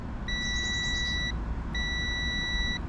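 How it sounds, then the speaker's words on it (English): A multimeter's continuity beeper sounds twice as its leads touch both blades of a good fuse: two steady, shrill electronic tones, each about a second long with a short gap between, over low room hiss. "If you put it on there and hear that beep,"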